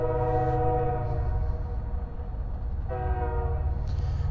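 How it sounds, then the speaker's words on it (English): A train horn blasts loudly for about two seconds, then sounds again after a pause, over the rumble of a passing train. "Let's wait for the train horn."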